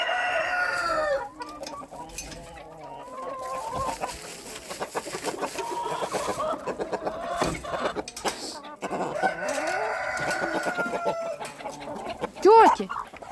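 Farmyard chickens clucking steadily while being fed millet and sunflower seeds, with a rooster crowing near the end; a person talks in Ukrainian over the birds and rustling movement.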